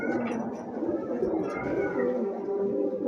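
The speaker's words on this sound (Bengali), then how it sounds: "এই যে দেখেন খুবই সুন্দর এক জোড়া কবুতর" A pair of pigeons offered for sale coo in a steady, continuous murmur of low, rolling calls that fills the whole stretch at close range.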